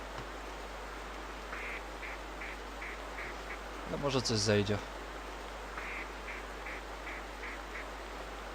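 Ducks quack in the video game theHunter Primal, a short burst of several loud calls in the middle of a steady hiss, with someone speaking over it.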